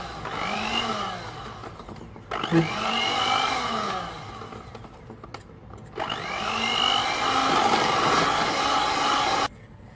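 Cocoa sponge cake batter being mixed with an electric mixer, a loud whirring motor running in long stretches broken by brief pauses, close and steady, with no voices.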